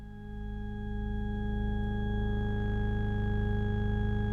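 A synthesizer's auto organ preset holds a sustained, steady organ chord with a gently pulsing low end, swelling in slightly at the start and then staying loud and even.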